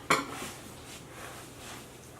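Crab meat, minced onion, mayo and sour cream are blended in a bowl: a sharp utensil clink against the dish opens, followed by soft, steady scraping and mixing sounds close by.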